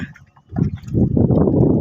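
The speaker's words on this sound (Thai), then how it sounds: "คลื่นเริ่ม จะแรง ลมก็เริ่มจะแรง คลื่นเริ่มมาแล้ว" Strong sea waves and gusting wind out on open water, with waves mixed with boat wake, swelling from a quiet start into a steady, loud broadband rush.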